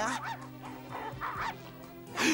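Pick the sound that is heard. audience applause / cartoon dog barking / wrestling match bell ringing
cartoon dog barking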